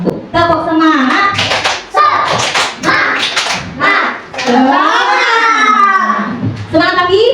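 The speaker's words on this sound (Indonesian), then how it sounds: "2 tepuk semangat." Schoolchildren in a classroom perform a rhythmic spirit clap, patterned claps mixed with their chanting voices, loud and close throughout.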